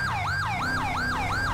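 A police siren in the GTA 5 video game wails in a steady, rising and falling cycle, loud and close, with a low engine hum beneath it.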